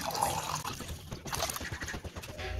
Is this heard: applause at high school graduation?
no